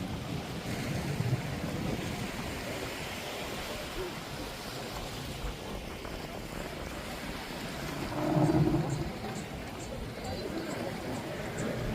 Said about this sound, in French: On est à la plage de Manoa.